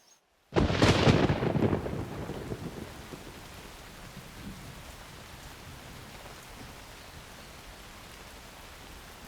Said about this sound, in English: This rain is absolutely miserable.